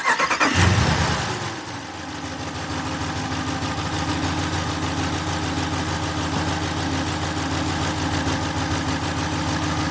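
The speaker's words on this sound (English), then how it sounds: "let's do a lukewarm start. See if we can hear any valve train noise at all" A Hemi V8 engine cranks and catches from a lukewarm start, then settles into a steady, even idle close by, with no voices.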